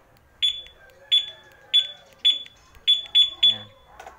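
A two-way alarm fitted to a Yamaha Mio i 125 motorcycle answers a remote button press with a run of seven bright, evenly spaced beeps, loud and close, with faint voices in the background.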